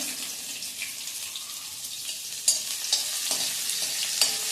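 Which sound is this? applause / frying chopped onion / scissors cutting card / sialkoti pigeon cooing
frying chopped onion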